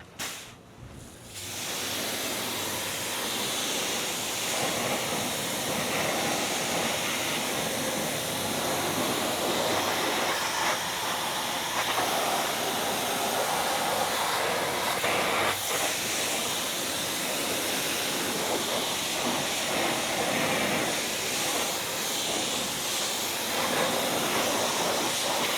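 A strong pressure-washer water spray rinsing iron remover off car wheels, a loud, continuous hissing rush that starts abruptly and runs steadily throughout, with no speech.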